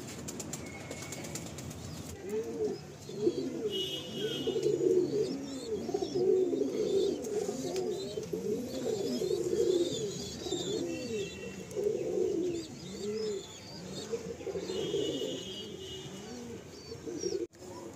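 Kalsira pigeons coo in steady, overlapping rounds close by inside a loft, with brief bursts of wing flapping and faint chirps mixed in.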